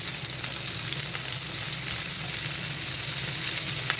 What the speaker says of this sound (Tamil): இஞ்சி பூண்டு, கொஞ்சம் நல்லா வதக்கலாம்.